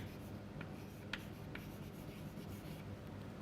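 Writing is rubbed off a lecture hall board, a faint, brief wiping scrape with a few short squeaky strokes over a hum of room noise.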